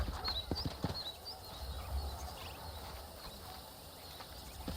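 Horse hooves clip-clop on a dirt trail in the Red Dead Redemption western video game, a few brisk steps close up at the start, then lighter hoofbeats under a quiet ambience of birds and wind.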